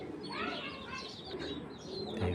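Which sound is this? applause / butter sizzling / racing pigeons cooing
racing pigeons cooing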